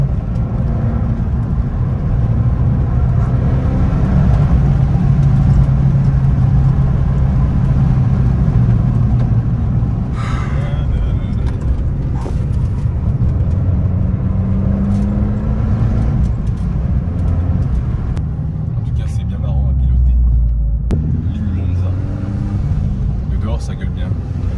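An Abarth car engine revs loudly from close range inside the car, a continuous mid-pitched roar with surges and dips, while voices talk over it.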